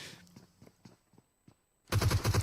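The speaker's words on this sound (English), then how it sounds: "look at that shots coming in with that AKM, reloads it" AKM gunshots in PUBG Mobile, a few scattered distant cracks and then a loud burst of rapid automatic fire at the end.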